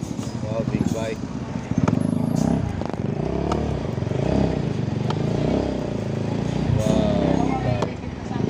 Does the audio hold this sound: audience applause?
no